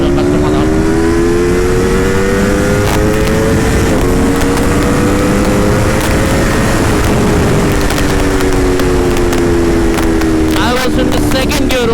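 An Italian superbike accelerates hard in second gear, its loud rising engine drone climbing and dipping in pitch across the run with strong wind rush, close and continuous throughout.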